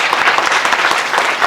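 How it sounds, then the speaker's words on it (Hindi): Enthusiastic audience applause for the team at an IAS coaching institute's new campus event, with loud, close, rapid clapping from many hands throughout. "ज़ोरदार तालियाँ हो जाए सभी टीम के लिए, प्लीज़।"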